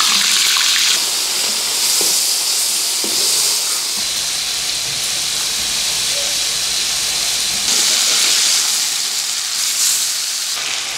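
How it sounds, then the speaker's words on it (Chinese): Fish frying in a wok in a rural Sichuan kitchen, seasoned with salt, pickled ginger and chilies: a steady loud hiss and sizzle of hot oil throughout, swelling in brief bursts, with no talking. "鱼儿下去煎去"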